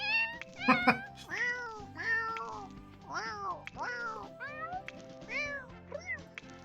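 Cats meowing in The Sims 4, a run of distinct, bending meows one after another over a faint game backdrop, moderately loud and close throughout.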